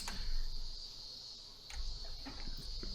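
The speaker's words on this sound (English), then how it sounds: "Can those cicadas like shut?" A continuous high, buzzing insect drone of cicadas fills the scene of the video game Lifted Dreams, steady throughout with a few faint clicks and knocks underneath.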